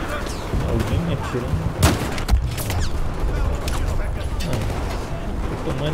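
Gunfire and explosions fill a Battlefield 4 match, with scattered shots and a couple of sharp booms over a busy battle din, while someone talks throughout.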